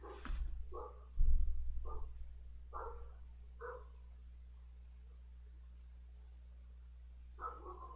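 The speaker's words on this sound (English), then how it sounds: "Don't mind the dog if you can hear it in the background." A loud dog barks repeatedly in the background, with a strong sharp bark early on followed by several more spaced barks, over a steady low hum with no talk.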